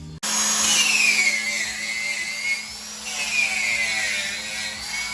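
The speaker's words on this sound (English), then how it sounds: "good old grinder with the homemade slicks on it." An angle grinder fitted with homemade slick discs cuts through the steel frame rail of a 1956 Chevy in a garage, a loud continuous whine with shifting pitch that runs nearly the whole time after a sudden start.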